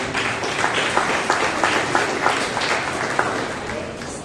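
An audience at a New Year prayer-meeting fellowship claps for prize winners, a steady wash of crowd applause with scattered sharper hand claps, moderately loud and continuous.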